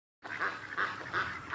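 Loud, repeated squawking honks from farmyard poultry, three strong calls in a row at close range with no talk over them.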